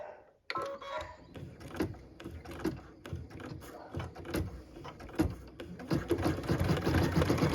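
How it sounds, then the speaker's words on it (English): An embroidery machine stitches a white-thread tack-down line on a Christmas ornament, its needle driving in a quick, steady rhythmic chatter that gets louder and denser near the end, with no talk. "We can go ahead and stitch the tack down line."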